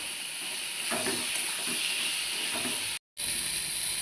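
Fried vegetables sauté in a pan with a paste of green chili and cumin, salt and turmeric, giving a steady close sizzle and hiss with a few soft stirring scrapes and one brief dropout.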